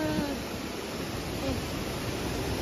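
Water from a stream rushes steadily beside a footbridge, a soft, even wash with no breaks, faint voices briefly audible.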